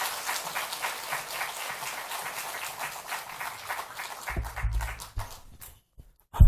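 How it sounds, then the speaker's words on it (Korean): Church congregation applauding at a Sunday worship service to welcome a speaker forward, a dense steady clapping that thins and fades out near the end, followed by a couple of low thumps. "우리 간사님 나오실 때 박수로 우리 크게 한번 환영해 주시기 바랍니다."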